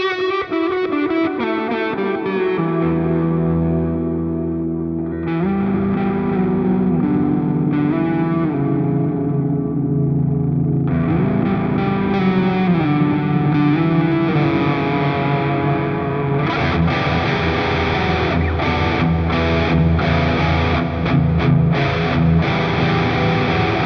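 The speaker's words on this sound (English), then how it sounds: "We've also got this stereo delay here while we're on the topic of stereo." Distorted electric guitar plays chords and riffs through a NUX MG 50 Li stereo delay effect, repeats echoing behind each note, the sustained sound swelling and pulsing over a long passage.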